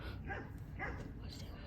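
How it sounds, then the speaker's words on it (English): A dog trying to jump over a fence gives short yips and whimpering barks at close range, heard in a brief burst among people's voices. "The dog tried to jump over the fence."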